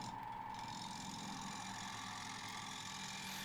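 A wood lathe spins a bowl blank at 1400 RPM, producing a steady, even mechanical hum and drone close by throughout, with no voices.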